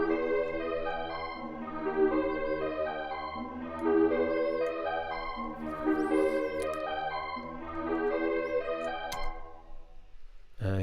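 Low notes alternating by a semitone run through Ableton's Spectral Resonator effect, giving rich, buzzy harmonic tones that swell and shift in a steady back-and-forth pattern over about ten seconds. No voices are heard alongside the processed sound.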